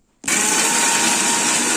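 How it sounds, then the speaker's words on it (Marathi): A mixer grinder blends roasted cashews and masala with a little water into a creamy paste, kicking in abruptly after a brief quiet moment and holding a loud, steady whirring roar to the end. "चला आपण मिक्सर मध्ये घेऊ, एकदम छान क्रीमी पेस्ट तयार झाली"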